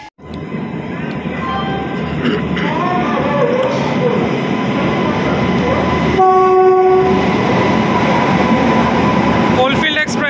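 Howrah–Dhanbad Coalfield Express passing on the line in India, a loud, close rumble of coaches and wheels with a long horn blast sounding partway through, continuing to the end.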